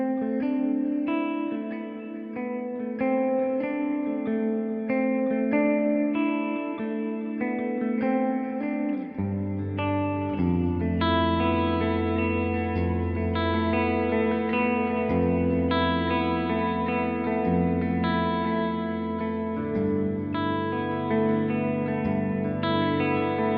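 An electric guitar played straight into an interface through an AMT Pangaea CP100 preset modeled on a Bluesbreaker, ringing sustained chords and notes with light overdrive and ambient echo, the low end filling out partway through.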